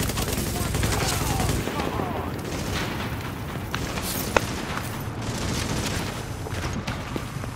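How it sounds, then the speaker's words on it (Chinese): Gunfire in the co-op shooter The Division: dense, continuous bursts of shots and blasts fill the whole stretch at a steady loud level, with a busy game mix underneath. "往红色的方向开枪就对"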